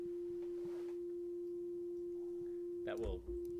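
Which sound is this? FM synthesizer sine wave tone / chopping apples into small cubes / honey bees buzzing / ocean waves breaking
FM synthesizer sine wave tone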